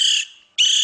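A recorded West Indian woodpecker call played back during a bird survey, heard as two loud, harsh high-pitched bursts separated by a short gap.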